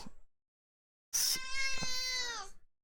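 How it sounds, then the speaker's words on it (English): A pet cat yowls once, close and loud, in a single long, drawn-out meow that trails off, following a brief silence. "I think my cat is out of food. That's why she's yelling at me."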